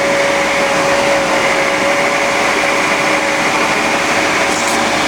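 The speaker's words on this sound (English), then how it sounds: "This is a powerful little tractor, I'm telling you." A Rural King RK55HST compact hydrostatic tractor engine runs at a steady, loud, close-up drone with a constant whine and no breaks.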